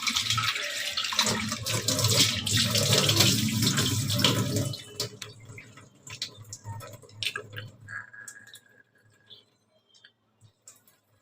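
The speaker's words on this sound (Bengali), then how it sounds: "পেঁয়াজটা আর এটা একটু ধুয়ে নিই" An onion being washed under a running kitchen tap: a steady, fairly loud gush of water splashing for about five seconds, then the flow stops, leaving scattered drips and small handling clinks.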